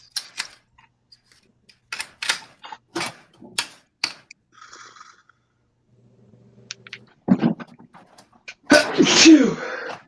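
A single loud, close sneeze bursts out at the end, after a stretch of scattered clicks, taps and quiet mechanical sounds.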